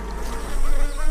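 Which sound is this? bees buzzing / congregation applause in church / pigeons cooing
bees buzzing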